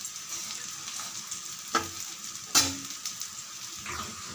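Egg dosa with onion frying in oil on a hot pan, a steady soft sizzle with a few sharper crackles and spatula scrapes, close and alone.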